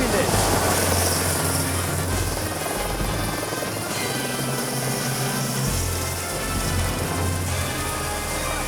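A search and rescue helicopter sits with its motor running, a loud, steady close-up whine and rotor thrum with low throbbing pulses and wind-like rush throughout.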